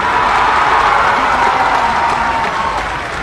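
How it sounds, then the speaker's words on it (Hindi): An audience at a BJP gathering claps and cheers for Yogi in a loud, dense, continuous burst of applause that holds steady and eases slightly at the end. "और जितना मन में भाव है वो ताली बजते रहने चाहिए"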